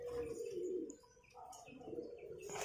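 Highflyer pigeon cooing close by in an evening setting, a low rolling coo repeated in two phrases with brief soft chirps around it.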